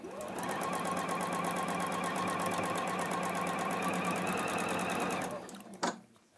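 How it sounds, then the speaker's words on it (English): A sewing machine stitches rapidly in a steady, fast mechanical rhythm for several seconds, then stops with a brief clunk. "Now this one I'm using a sewing machine at the moment"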